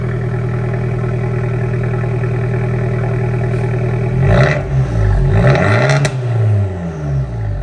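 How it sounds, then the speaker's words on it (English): A Fiat 124 Spider Abarth fitted with a Eurocompulsion Stage 1 tune idles with a steady low hum before the engine is blipped in a few short revs that rise and fall, close and loud. "Give us a little rev."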